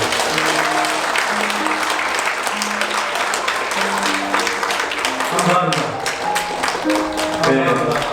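Guests at a wedding ceremony in a convention center hall clap for the bride and groom, a full, continuous round of applause with background music tones running underneath.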